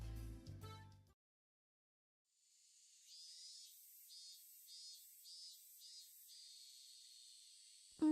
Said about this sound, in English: Even the chirping of the cicadas seemed joyful.